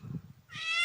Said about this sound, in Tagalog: nagugutom na yung pusa.